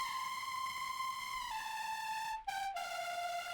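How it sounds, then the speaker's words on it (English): A sustained, bright synth lead tone with rich harmonics, holding a steady pitch that steps slightly lower, with a brief dropout near the end. "There was a lot of very distorted, high-end leads."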